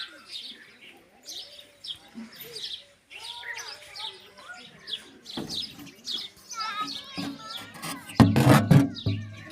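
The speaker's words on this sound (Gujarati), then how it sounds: "કબૂતરાને થોડી દેર આપણે આમાં મૂકી દઈએ" Pigeons being handled at home, with soft coos and chirps close by, broken by rustling and a sharp clatter near the end while people talk nearby.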